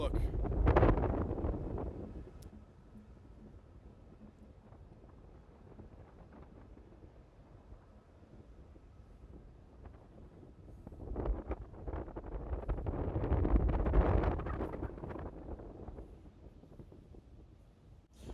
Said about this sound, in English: it's windy, I know